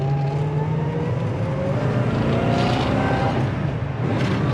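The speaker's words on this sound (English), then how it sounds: "Transmission shifts good, engine runs strong." A 1969 Mustang Fastback with a 351 V8 drives down the road, its engine droning steadily and rising in pitch as it accelerates through the gears, loud and close with road noise underneath.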